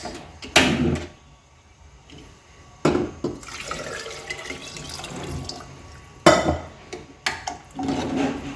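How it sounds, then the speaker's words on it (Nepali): Rice-washing water is poured into a cooking pot in short splashing bursts, several separate pours with quiet gaps between them, close by and fairly clear. "चामल धोएको पानी लगाउन गइरहेका छौँ है गाइस"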